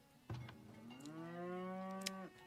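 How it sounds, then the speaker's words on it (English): A single long cow moo from the Farthest Frontier village-building game, a steady drawn-out bellow rising then holding, clear and close over a quiet background. "Have 20 cows here."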